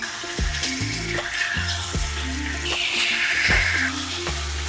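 King fish steaks sizzling in butter in a pan just after being flipped, a close, steady frying crackle and hiss with background music beneath and no talking.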